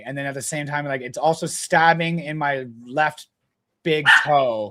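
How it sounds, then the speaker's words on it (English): A dog barks in the background while someone talks steadily in the foreground, its short yaps partly buried under her voice. "Sorry, that's my dog."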